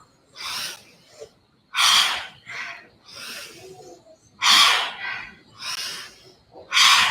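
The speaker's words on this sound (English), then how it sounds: "So you inhale with force and exhale down." Forceful Bhastrika pranayama breathing, a series of about seven sharp, loud nasal rushes of air in an uneven rhythm, each inhale and exhale a short burst close to the mic.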